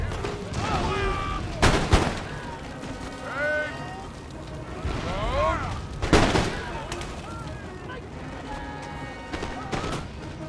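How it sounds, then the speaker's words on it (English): Canister shot artillery fire in Empire: Total War, with two sharp, loud booms standing out over a constant low battle rumble, along with scattered distant reports and a voice talking through it. "These guys are being wrecked by canister in the back."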